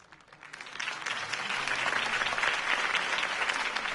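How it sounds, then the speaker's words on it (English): Applause from a crowd after a campaign speech swells in after a quiet start and holds as steady, dense clapping throughout. "could have heard that applause"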